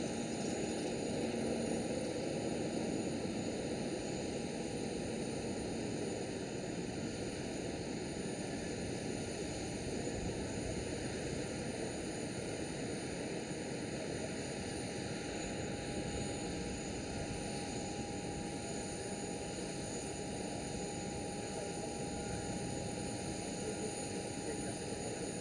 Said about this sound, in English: And she is taxiing out towards either the center,